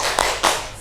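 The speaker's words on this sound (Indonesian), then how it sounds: "Ayo kita tepuk semangat dulu." Students in a class doing a quick spirit clap together, two sharp group claps in close succession, near and fairly loud.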